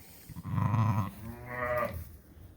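In a barn at lambing time, a sheep gives a loud, close bleat, followed after a short pause by a second, higher and wavering bleat, with no one talking.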